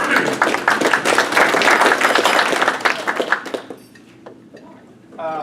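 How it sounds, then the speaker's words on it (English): Dense crowd applause from an audience at a Rotary club meeting fills the room loudly for several seconds, then thins into scattered claps and a quieter pause before a voice returns. "So big round of applause for doing"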